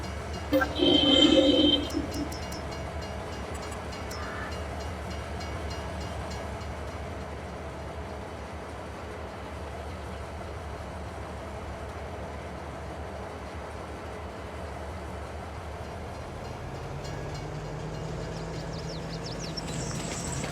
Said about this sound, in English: train is also arrived, so let's load it up and sell it